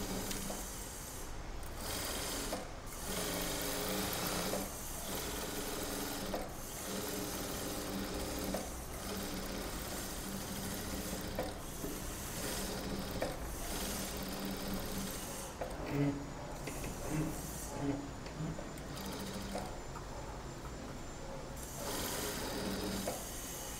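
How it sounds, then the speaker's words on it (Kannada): Edge stitching on a silk blouse runs on a sewing machine, a continuous rattling mechanical hum with a rapid ticking pulse and slight speed changes, close and steady for the whole stretch, with no talk over it. "ಎಡ್ಜಿಗೆ ಸ್ಟಿಚ್ಚನ್ನು ಹಾಕ್ಕೊಳ್ಳೋಣ"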